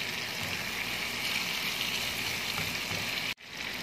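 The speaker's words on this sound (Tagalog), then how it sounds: "Ginigisa lang natin ang sibuyas, kamatis, bawang at sa kaluya" Onion, tomato, garlic and ginger sautéing in a hot pan give a steady, dense sizzle that holds evenly throughout, broken by a brief dropout just before the end.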